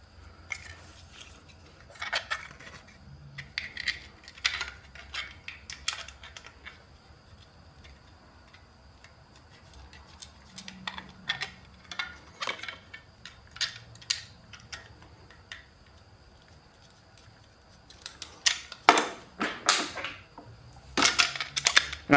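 A ball-end Allen wrench turns small M4 screws on a motorcycle dash mount, giving irregular bursts of metallic clicks and ticks as it is worked back and forth, close up with no talking.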